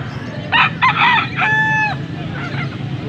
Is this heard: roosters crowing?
yes